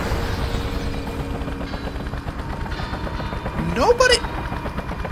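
Rapid gunfire in the video game Just Cause, a fast run of faint, regular shots beneath steady game noise, ending in a brief sweeping whoosh, while a voice talks over it.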